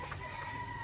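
Brief clucking from backyard gamecock roosters bred for fighting in the Philippines, a short burst of low, close bird calls with no talking.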